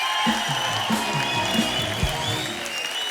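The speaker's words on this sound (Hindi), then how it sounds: "जोरदार तालियां हो जाए हमारे मेहमानों के लिए।" Studio audience at The Kapil Sharma Show claps for arriving guests, dense applause with background music and a voice briefly audible underneath.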